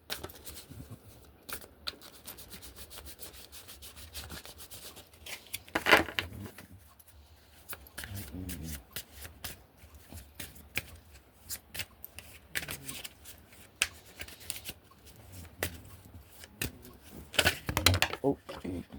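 A deck of cards is shuffled in repeated quick papery riffles and flicks, with a few louder bursts, while a person talks softly in between.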